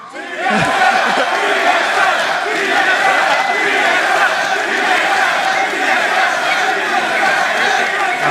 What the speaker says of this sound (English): let's hear those TSM chants, guys